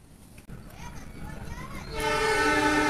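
Wind and rumble build as the Argo Parahyangan passenger train approaches, then a loud, sustained horn blasts near the end as it passes close by.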